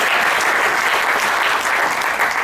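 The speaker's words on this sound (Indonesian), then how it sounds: "tepuk tangan paling mulia untuk kita" Audience applause, a steady wash of many people clapping together, loud and even throughout without a break or talk on top.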